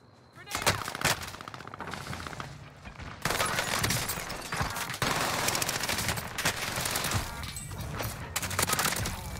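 Gunfire in the battle royale game Warzone: loud, close bursts of rapid automatic fire and single shots in dense clusters, with sharp cracks and a constant busy battlefield din throughout.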